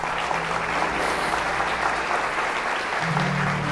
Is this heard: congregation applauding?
yes